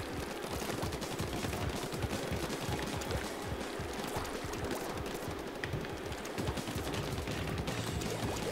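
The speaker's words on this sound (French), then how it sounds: "j'ai choisi le fusil de base là, parce que c'est l'arme qui est la plus simple" The basic ink gun in Splatoon fires in rapid continuous bursts, a dense, steady rattle of shots with splattering ink running through the whole stretch and no speech over it.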